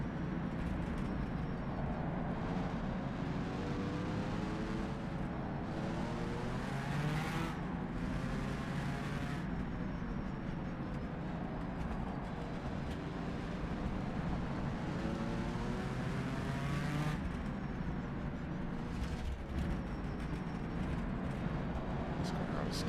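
Loud race car engine at the Targa Sicilia Rinascita, a steady roaring drone with rising and falling revs, passes swelling around a few moments, under occasional talk.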